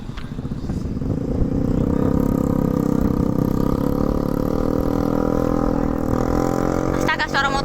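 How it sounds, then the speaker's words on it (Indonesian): A small motorcycle engine runs steadily nearby on a quiet night street by a river bridge in Palembang, its low idling rumble holding throughout with a slight rev near the end. "Astaga, suara motor mamang itu."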